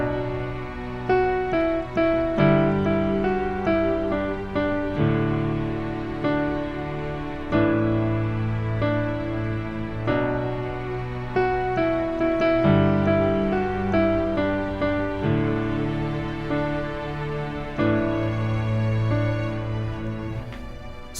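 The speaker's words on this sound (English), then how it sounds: "we're going to be learning the intermediate level main intro riff, that 4-chord progression" Solo piano plays the intermediate-level four-chord intro riff of a song, with repeating chords struck every few beats in a slow, even rhythm that rings out and decays, clear and close with no voice.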